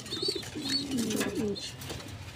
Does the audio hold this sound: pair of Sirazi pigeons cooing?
yes